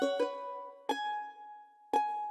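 Ethno Rhodes stringed instrument one-shot melody, with three plucked notes spaced about a second apart, each struck sharply then left ringing and decaying, played alone with no voices.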